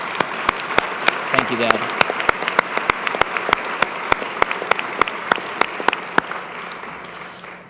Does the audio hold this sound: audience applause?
yes